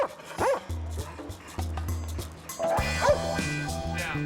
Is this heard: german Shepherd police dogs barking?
yes